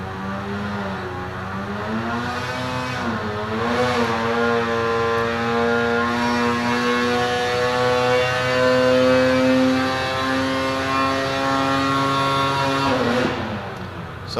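A Polaris 850 snowmobile engine with an SPI pipe, running on a dyno, drones loudly and steadily, its pitch climbing slowly over a long pull before the revs drop away at the end.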